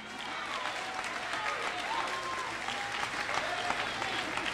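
Graduation crowd at an arts academy ceremony in a hall clapping continuously and evenly, a broad sustained roar of applause with faint whistles and voices mixed in.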